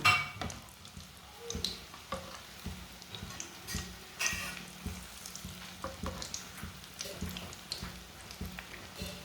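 Chicken kebabs fry in a pan over low heat with a steady crackling sizzle, scattered sharp pops and ticks breaking through close by, and no talking.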